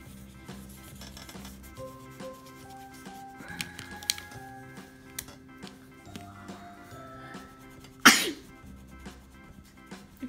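A child sneezes once, sharp and close, near the end, standing out from quiet marker scratching and soft rustling at a table while coloring.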